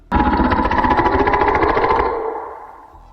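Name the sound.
monster growl sound effect from video game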